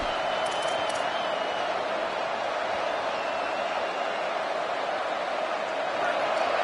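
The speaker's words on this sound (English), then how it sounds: "These fans are going absolutely nuts" A roaring stadium crowd of college football fans during a Kentucky versus Arkansas game, with a dense, steady wall of cheering and noise holding evenly throughout and no breaks.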